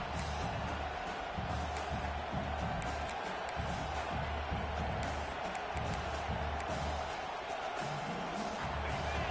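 A home crowd roars and cheers in a college football video game against Tennessee, a dense, steady wall of noise that stays loud and close throughout.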